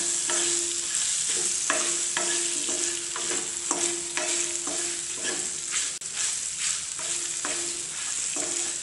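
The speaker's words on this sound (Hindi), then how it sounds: "आधा चम्मच डालिए लाल मिर्च का पाउडर, इसे भी अच्छे से भून लेंगे" Chillies fry in a pan with red chilli powder, giving a loud, constant sizzle close by, with regular stirring scrapes roughly every half second throughout.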